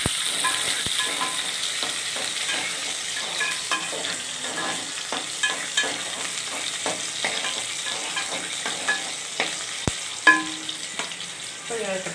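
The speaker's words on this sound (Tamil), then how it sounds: "வெங்காயம் போட்டு நல்லா வறுக்கணும்" Onions fry in oil for a fish curry, a continuous soft sizzle broken by frequent scraping stirs of a spoon against the pan, close by and without talk.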